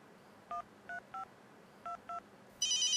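Six short keypad beeps of a phone being dialed, spaced irregularly, followed by a longer, louder tone at the end.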